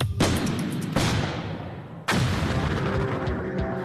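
Massive blasts attributed to the MOAB bomb: three heavy booms hit in succession, each a sharp loud impact followed by a long rumbling roll-off that decays into the next.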